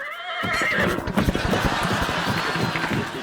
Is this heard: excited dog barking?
no